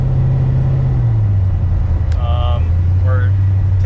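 A steady, loud engine drone and low road rumble from a car cruising along a road, constant throughout with a slight drop in engine pitch midway, plus a few faint chirps in the cabin.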